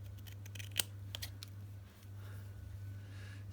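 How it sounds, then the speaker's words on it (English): Scissors trimming a small paper tag for a junk journal dangle: one sharp, close snip followed by a few lighter clicks and snips over a steady low hum. "it's a tad too long, but I can trim that down."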